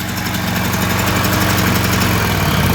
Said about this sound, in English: It's very cold out. This thing hasn't rained in 2 years, and the fuel might not be the freshest.